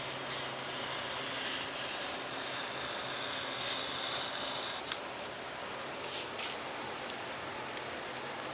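A blade slices partway through foam board for a Fokker D7 WWI RC biplane, a long, faint, continuous scraping hiss with a few brief ticks near the end.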